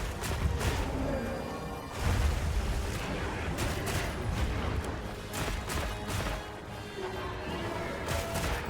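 Rapid-fire weapon shots in Monster Hunter Wilds ring out in quick dense bursts over a loud, busy battle mix, with repeated sharp cracks across the whole stretch.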